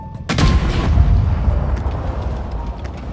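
A single loud tank cannon blast in the video game World of Tanks Blitz booms suddenly, then a long rumbling roar and crackle fade slowly behind it, with no voices.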